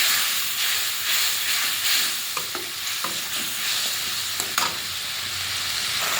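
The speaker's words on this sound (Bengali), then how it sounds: "মশলাটা কষে নিই" A spice paste with added water, for a prawn curry, fries and is stirred in a pan: loud, dense steamy sizzling throughout with periodic scraping strokes of a spatula, no voices.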